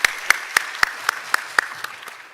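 A small group claps at a school board of education meeting, with about ten sparse, evenly spaced claps that soften toward the end.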